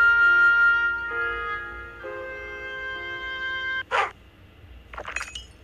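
A dog barks in the Roblox Piggy video game, two short sharp yelps over sustained tonal game music.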